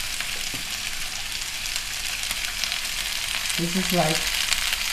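Vegetables for kung pao chicken sizzle in hot oil in a pot, a constant loud frying hiss throughout, with someone speaking briefly near the end.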